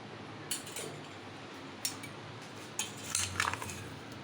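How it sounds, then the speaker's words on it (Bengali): A lid is lifted off a container of sweet raw mango pickle, giving a few light, separate clinks and taps over a quiet background. "এবার আমি ঢাকনাটা উঠিয়ে দেখছি কতটা হয়েছে।"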